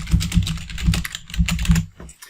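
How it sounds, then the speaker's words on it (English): Typing on a computer keyboard while composing an email message, a steady run of close, quick key clicks with a pause near the end. "You can type in your message."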